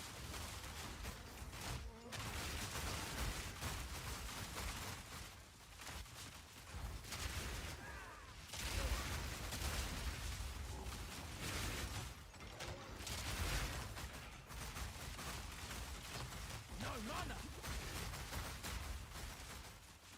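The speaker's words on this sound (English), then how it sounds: "Listen to the explosions." Dense video game explosions and gunfire rattle continuously in loud overlapping bursts, with brief dips between volleys and no clear talk.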